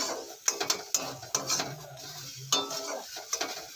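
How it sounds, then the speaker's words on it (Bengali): Pointed gourd (patol) paste fries in a pan in short bursts of spoon scraping and clinks against the metal over a soft sizzle, close and fairly quiet, with uneven pauses between strokes. "পটলের জলটা যতক্ষণ না শুকোচ্ছে ততক্ষণ আমি এভাবে ভাজতে থাকবো।"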